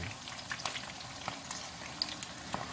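Halfbeak fish deep-frying in hot oil, a faint, steady crackling sizzle with scattered small pops, heard alone without talk.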